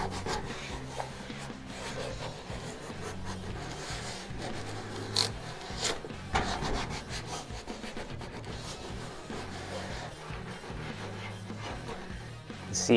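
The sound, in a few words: rubbing tape onto a car fender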